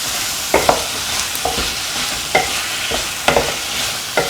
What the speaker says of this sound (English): Now put in the yam pieces.